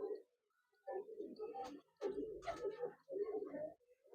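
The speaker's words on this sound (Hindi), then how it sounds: "कम से कम मेरे पास होंगे 30-40 कबूतर है जी उनके।" Several pigeons coo in soft, rounded bursts from a flock of thirty to forty antique-eyed flying pigeons kept in Chandigarh, with a few gaps of quiet between the calls.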